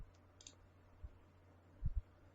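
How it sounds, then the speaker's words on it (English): A few soft computer mouse clicks while choosing menu options, sparse and close, in a quiet room with faint background hiss. "Click the menu, go to new,"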